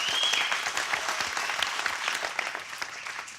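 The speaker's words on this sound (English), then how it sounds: "give them a round of applause" An audience claps steadily through the whole moment at a model railway competition grand finale, a dense continuous wash of applause with no talking over it.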